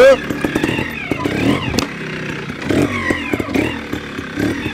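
A SWM motorcycle engine revs up and down in repeated surges, loud and close, with a rider talking intermittently over it.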